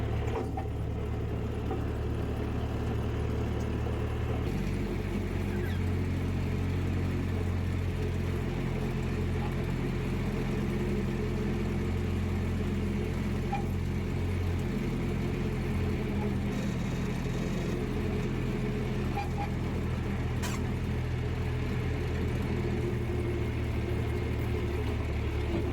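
A heritage engine runs while carrying riders in its cab at the Campbelltown Steam & Machinery Museum, giving a loud, continuous low rumble and whir from close by. The tone shifts slightly a few seconds in, and there is no talking.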